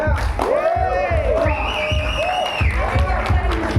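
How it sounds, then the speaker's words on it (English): Audience applause and cheering at a Philippine launch event for LG XBOOM AI speakers, crowd noise and clapping running under a loud amplified voice and music that dominate the foreground. "Again, another round of applause."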